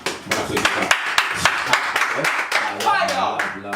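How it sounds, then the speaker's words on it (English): Rapid hand clapping, a steady run of sharp claps close by, with music or voices murmuring underneath. "I have to give that a clap"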